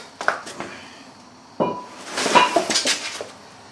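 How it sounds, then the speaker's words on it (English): A brake rotor from a 2001 Buick Park Avenue being lifted off and set down on a hard surface, giving a few metallic clanks and clinks up close, with a louder cluster of clattering toward the end. "Just take the rotor off, put it out of the way."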